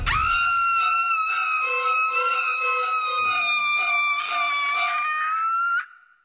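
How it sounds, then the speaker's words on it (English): A man screaming in a film trailer, one long sustained high-pitched scream held for several seconds before cutting off abruptly. "It'd be really cool if you guys wouldn't tell people I scream like that"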